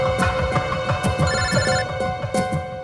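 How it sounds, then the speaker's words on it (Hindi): A telephone rings in sharp repeating bursts, several rings in quick rhythm, loud and close with a bright electronic tone and no talk over it. "एसीपी साहब का फोन।"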